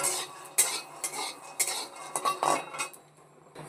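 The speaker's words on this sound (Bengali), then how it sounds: "বাদাম ভাজায় তেল দেব না, শুধু বাদাম ভাজবো।" Peanuts dry-roasted in a pan without any oil, stirred with a metal utensil, give a run of scrapes and light clinks at an uneven pace. The sound is close but soft, there is no voice, and it fades out near the end.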